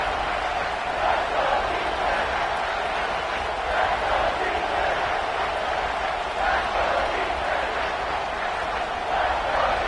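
A large American football stadium crowd roars and cheers continuously on third down, a dense wash of distant voices with a few louder swells.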